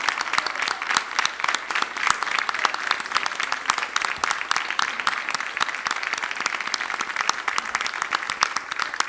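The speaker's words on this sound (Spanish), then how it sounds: "yo creo que se merece un aplauso" A live audience gives a sustained round of applause for a performer named Ana at a habaneras and talk evening in La Villa, San Sebastián, dense and even clapping throughout with no voices.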